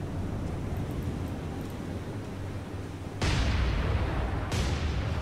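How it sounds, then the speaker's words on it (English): Naval guns in a War on the Sea naval combat game fire a volley of star shell flare rounds, heard as two sharp, heavy booms over a steady low rumble of ship and sea noise. "How about a full volley of flares?"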